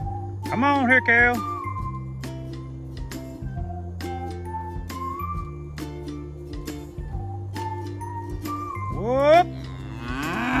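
Dexter cattle in a pasture moo in long, loud, drawn-out calls near the start and end, with faint clinking and a low steady hum between them.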